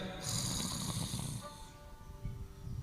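A man imitates loud snoring with his voice, a rasping, breathy snore with a bright hiss that runs for over a second before fading into quieter breathing and room tone.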